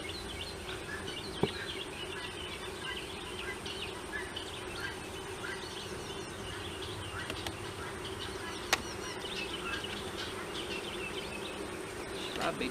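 Bees in a hive box at night, a low steady hum from close by that runs without a break and is faint next to a few sharp knocks and clicks.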